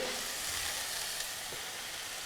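Canned peeled tomatoes hit a hot pan for a homemade salsa, producing a soft, even sizzle that stays fairly quiet and steady throughout with no speech.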